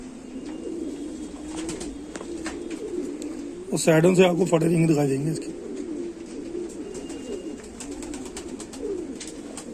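Pigeons coo in the evening, a soft repeated murmur under someone talking, with one close, louder burst of throaty cooing in the middle.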